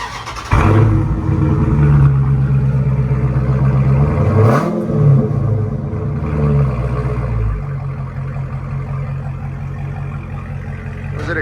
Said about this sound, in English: Those are the Carven R series mufflers.